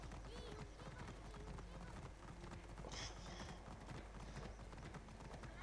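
Horse galloping in Assassin's Creed Origins, a fast steady run of hoofbeats under faint game ambience and quiet speech, low in level throughout.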